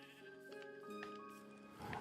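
Sheep bleating in Minecraft, several wavering calls overlapping across the clip, fairly close and clear with a little background game sound.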